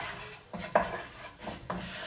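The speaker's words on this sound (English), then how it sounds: "So just dry frying those spices now." Metal clinks and scrapes of a utensil stirring spices dry-frying in a stovetop pan for pilau rice, a few sharp taps against faint background hiss, no voices.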